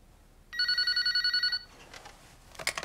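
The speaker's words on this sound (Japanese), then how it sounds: "電話。" A telephone rings in the video game Yakuza Kiwami, sounding as a bright, rapid electronic trill that repeats for about a second and then cuts off. Faint clicks and a short chime follow, and there is no talk.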